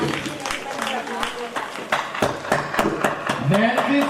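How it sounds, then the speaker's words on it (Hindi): Scattered clapping from a gathering at a 2017 Christmas celebration, irregular claps mixed in with overlapping voices and general crowd noise throughout. "तो उस प्रेम में कौन कौन ताली बजाएगा?"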